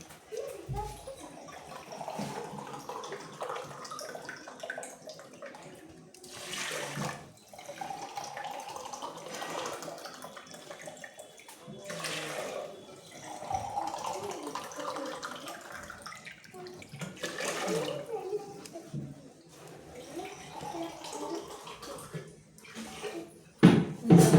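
Water poured from a vessel onto washed rice in a pressure cooker in a home kitchen, a steady splashing pour with soft talk in the background.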